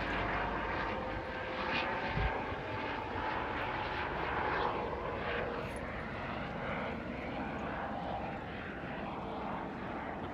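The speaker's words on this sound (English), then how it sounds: "Aha, it's a helicopter." A steady engine drone of a helicopter overhead, holding constant loudness throughout with broadband rumble and no speech.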